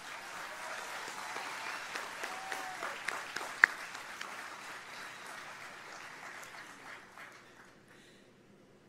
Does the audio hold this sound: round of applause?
yes